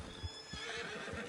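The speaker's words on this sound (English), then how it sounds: "Get on the horse when you're ready." In the Red Dead Redemption Online beta, a horse gives a short, close neigh with a few clip-clopping hoofbeats mixed in, all over in a moment.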